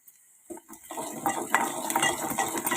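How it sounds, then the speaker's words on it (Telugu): A spoon stirring salt through egg tomato curry in a pan, starting after a brief quiet moment, then continuous scraping and clinking against the pan at close range. "అంతా కలిసే విధంగా కలుపుకోవాలి."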